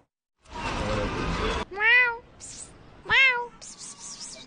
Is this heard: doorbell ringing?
no